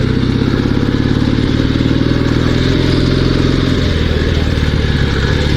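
A Dnepr two-wheel-drive sidecar motorcycle rides off road, its engine a loud, close, continuous rumble with rattling clatter and small thumps from the rough ground.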